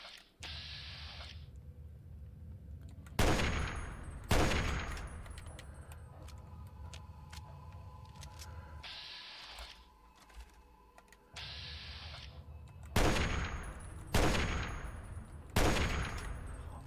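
Reservist rifle fire in the video game Fallout 3 comes as several sharp loud shots in separate bursts, with game ambience and faint clicks between them.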